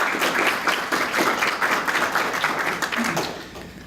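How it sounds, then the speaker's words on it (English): An audience at a 2019 promotion management competition applauds the judges. The clapping is loud and close, with many hands building a dense, continuous round that eases off slightly toward the end, and no speech over it. "let's have a round of applause for our judges"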